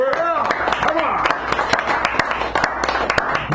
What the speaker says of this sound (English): Clap it up for Edward!